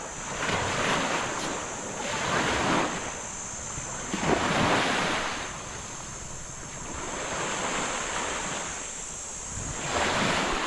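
Ocean waves roll in at low tide and break in slow surges every couple of seconds, with steady wind rushing across the microphone throughout.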